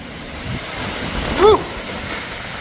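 Strong wind roars steadily across the microphone with a broad rushing wash, one brief louder gust midway, in a plantation during a heavy rainstorm; rain is not distinctly audible beneath it.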